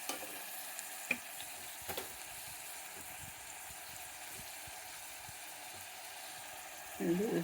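Salt going into a pan of mutton curry base being fried, a steady low sizzle throughout with a couple of soft knocks early on and louder frying bursting up at the end.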